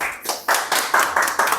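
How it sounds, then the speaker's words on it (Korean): Audience applause at a small online shopping-mall business course orientation, a thin, sparse round of hand claps from a few people, fairly quiet and close, with no talking over it. "박수가 생각보다 너무 작은 것 같은데"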